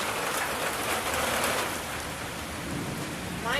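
Steady rain pours during a severe thunderstorm, a dense hiss of drops hitting surfaces with low rumbling beneath, even and fairly faint throughout.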